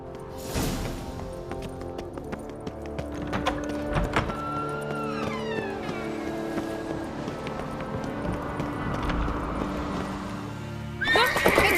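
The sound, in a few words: horse galloping and neighing in Witcher 3 video game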